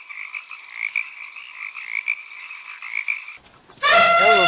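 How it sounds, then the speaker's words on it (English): A frog croaks in a steady buzzing trill lasting several seconds, followed by a brief gap and then a louder, harsher, fuller croak that ends the sample; no speech is heard. "Frog."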